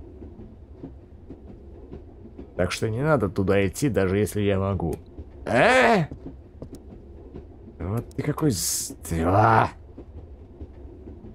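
Aboard a train in the video game Re:Turn - One Way Trip, a steady low rumble of wheels on rails runs under a conversation, with voices carrying over the top for most of the stretch.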